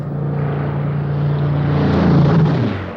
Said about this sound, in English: Flying Officer Waghorn's S6 won the race at an average speed of 328 miles per hour.